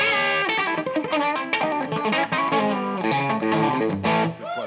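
Electric guitar with its coil tapped through the top tone control, giving a thinner, Tele-like twang, played as a loud, close run of distorted notes and chords with no talking.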